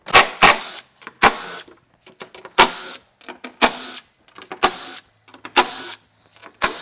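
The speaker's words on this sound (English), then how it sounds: "So the first step is to remove the bolts that hold this front panel on right here." Bolts being removed from the front panel of a Jeep Gladiator tailgate, heard as a run of sharp, loud mechanical bursts from a power tool, about eight of them, each separated by short quiet gaps.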